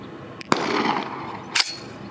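Two sharp gunshots from a PSA KS-47 pistol ring out about a second apart, each a loud close crack with a short echoing tail, and nothing else is heard between them.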